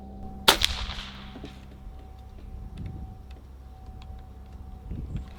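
A single sharp rifle shot from a Barra 250z fired at a backyard target rings out once near the start, with a short echoing tail, then quiet outdoor ambience follows.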